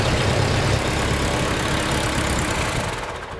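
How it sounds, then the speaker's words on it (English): A Ford 8N tractor engine, with a new gas line fitted and the radiator off, runs steadily at idle, a loud, close, continuous low rumble and clatter that fades slightly at the end. "We're not running the tractor long."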